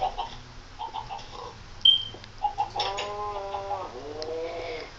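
Chickens in the Minecraft video game cluck in short, scattered calls over a quiet background, with a few louder clucks near the middle.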